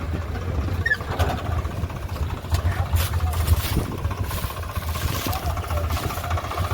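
A tractor engine rumbles steadily at low pitch near a village field motor during maize work, with irregular clatter and knocks over the drone.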